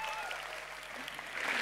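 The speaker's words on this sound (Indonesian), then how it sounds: "tepuk tangannya sudah meriah sekali ya" Audience applause at a climate summit event in Indonesia, a dense continuous wash of clapping with faint tonal sounds and some talk threaded through.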